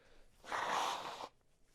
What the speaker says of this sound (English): I have to blow my nose. I got a cold.